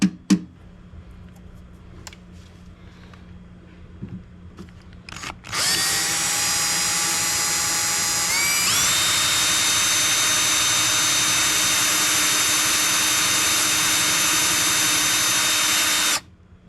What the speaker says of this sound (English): So let's get that drilled and we'll go from there.